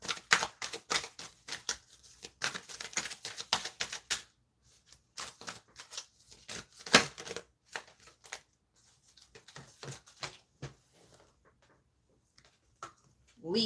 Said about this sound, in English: just give this a good shuffle